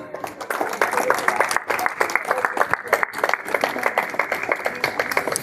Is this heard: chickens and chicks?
no